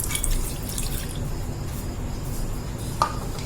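A salt and detergent solution mixed with water is poured into a container for extracting DNA from onion, giving a steady close wash of liquid with a brief drip-like splash near the end.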